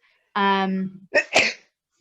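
A single sneeze: a voiced, rising intake followed by a sharp, explosive burst, close and fairly loud, with nothing else around it.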